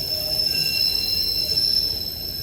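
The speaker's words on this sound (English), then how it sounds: "I think this is my other train coming now." A regional train arriving at a station, loud rumbling with sharp, sustained high-pitched wheel squeal held steadily throughout.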